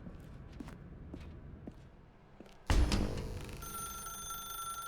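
A telephone in The Stanley Parable video game starts ringing suddenly after a stretch of quiet footsteps, giving a sharp bright ring that holds as a steady electronic tone.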